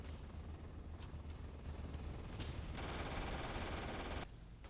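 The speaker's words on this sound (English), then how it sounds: "I'm getting fired at from all angles" Robots and turrets fire at the player in the video game Starfield, a dense, continuous rattle of rapid gunfire that swells into a sustained burst before cutting off near the end.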